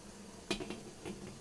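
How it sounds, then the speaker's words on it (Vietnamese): A metal steamer tray is set onto a pot of boiling water for making tapioca dumplings. It gives a sharp metallic clank followed by a few lighter rattling knocks, close and fairly quiet, with no talking. "Nồi nước đã sôi rồi. Bây giờ thì mình sẽ cho cái sửng này vô."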